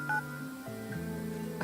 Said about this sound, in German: Telefonieren wir heute mit der Sophia